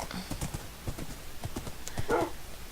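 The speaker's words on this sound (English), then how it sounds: "Now this horse I had already tamed, but I haven't saddled it" Horse in a video game trotting with a steady clip-clop of hooves and a short neigh near the end, close and clear, with no talk.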